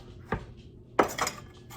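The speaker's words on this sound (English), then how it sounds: "I'm going to finely chop them" A knife chops store-bought pickled jalapeno peppers on a board, making two or three distinct close knocks with a light clink of metal.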